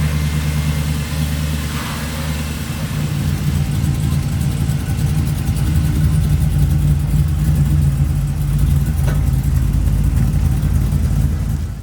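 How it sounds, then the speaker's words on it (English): An LS-powered Chevy Bel Air resto-mod sits running, its engine giving a loud, steady low rumble with a faint rise in revs partway through, while people talk nearby. "I just say we got to fire it up and take it out and go for a cruise"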